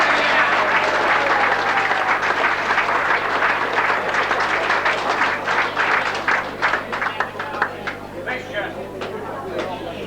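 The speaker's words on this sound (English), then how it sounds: "I thank you all most generously for that very good applause" Sustained audience applause at a Penguin Football Club award night, a dense, loud wash of clapping from a full room that gradually thins and tapers toward the end.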